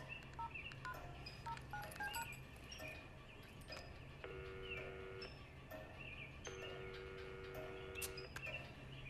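Telephone keypad tones are dialed in quick bursts of beeps, followed by two long electronic ringing tones that go unanswered in an Indian film scene, with low background hum and no talk.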